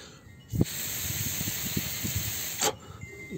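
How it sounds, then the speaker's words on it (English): A steady hiss of air blown through the check valve of a ShurFlo 4008 water pump for about two seconds, with faint clicks and rustling underneath, starting and stopping abruptly. "blowing into this and see if you hear any air come back through here"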